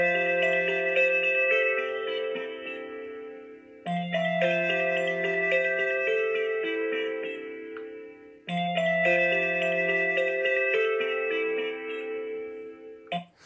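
A Samsung Galaxy S9 plays its Constellation ringtone at full volume: shimmering bell-like melodic phrases repeating three times in a steady loop, close and clean with no voices.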